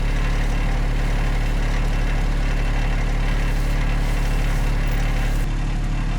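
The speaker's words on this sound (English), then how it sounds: "This little 26 horsepower Kubota has no problem pulling them off the trailer, 2 or even 3 at a time." A small 26 horsepower Kubota tractor with its engine running, a loud, steady, close rumble that holds evenly throughout, shifting slightly in tone near the end, with no talking.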